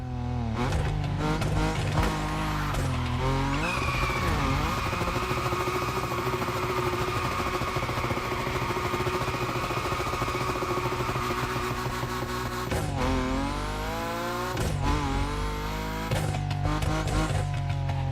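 Nissan 370Z tuned to 850 hp drifting in a video game, engine roaring loud and steady with revving swells and tire squeal, dipping around five and thirteen seconds before climbing again, no voices.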